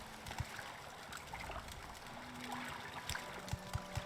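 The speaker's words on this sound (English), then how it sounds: "Why do I hear water?" Steady flowing water from a stream at a water's edge in the video game The Elder Scrolls III: Morrowind, a continuous soft trickling wash with a few faint low thumps, no talk.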